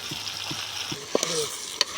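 Eggplant pieces sizzling as they fry in a pan, a steady crackling hiss with a few stirring clinks and scrapes from a utensil, close and clear with no talking.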